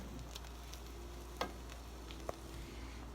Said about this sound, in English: Yeah, that's nice simmering